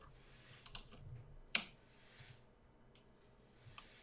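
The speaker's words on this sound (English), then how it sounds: "I hear your keyboard clicking." Faint, sparse computer keyboard clicks come through quietly, a few light taps scattered over a few seconds with one sharper click, against a low hiss of background noise.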